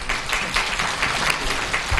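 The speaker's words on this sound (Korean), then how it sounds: "박수로 맞아주십시오." An audience at a periodontology society talk concert claps to welcome the society president, a dense, even burst of many hands close by for about two seconds.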